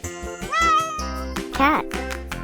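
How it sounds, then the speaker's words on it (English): A domestic cat meows in a children's farm-animal matching game, a few distinct rising and falling meows close up, with a brief child-like voice in between. "Cat."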